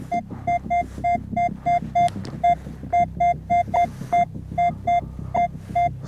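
A metal detector passing over a silver coin sends out a rapid series of about fifteen short, clear electronic beeps, evenly spaced over a low background hum.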